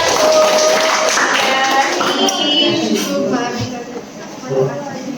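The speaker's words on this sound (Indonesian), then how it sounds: "Tepuk tangan untuk kelompok 1" Classmates give group 1 a round of applause in a classroom: dense, steady clapping that tapers slightly toward the end, with voices talking and calling out underneath.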